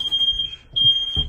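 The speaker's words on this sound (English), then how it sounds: "Smoke alarm's going off" A smoke alarm sounds a steady, piercing high-pitched beep during a York/Luxaire evaporator coil replacement after unbrazing, with a few soft thuds and handling noises beneath it.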